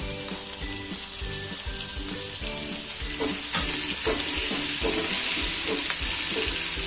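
Onions, ginger-chili paste and garlic frying in a pan for rajma, a constant close sizzle under a run of rhythmic spatula scrapes and taps that grows a little louder midway.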